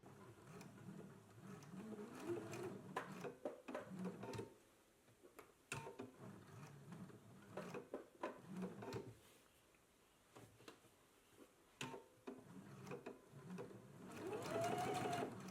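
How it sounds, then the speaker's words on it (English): A sewing machine stitching a seam along a marked line on a beginner's top runs in close, rapid mechanical bursts with brief stops between runs, fairly quiet overall. "Now that we have stitched right here along the stitching line, now we can cut diagonally right up into the stitching line."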